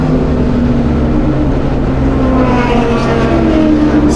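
GT3 and GT4 race cars roar loudly onto the front straight of a circuit, a dense sustained engine drone with rising tones as the cars accelerate, close and dominant throughout with no voices.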